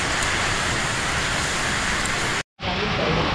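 Heavy rain falls during a storm in Thailand as a steady, loud, dense hiss. It breaks off for a moment near the end and then carries on.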